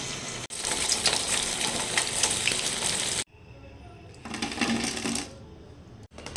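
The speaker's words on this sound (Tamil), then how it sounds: "நம்ம முட்டையை பொரிச்சு எடுத்துக்கலாம்." Masala-coated eggs deep-fry in hot oil for egg 65, a dense bubbling crackle that cuts out abruptly midway and then returns more faintly in bursts.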